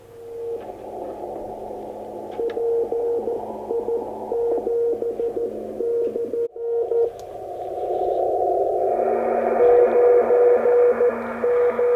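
A steady tone from a weak signal on an Elecraft 2m transceiver sits inside a hiss of radio noise, fairly clear and continuous, with the background hiss rising slightly partway through.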